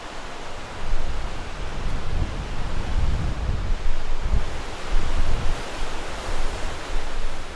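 Running water of a stream or river outdoors in Wyoming's Buffalo Bill Country, a loud, steady rushing roar with surging swells, heard alone without talk.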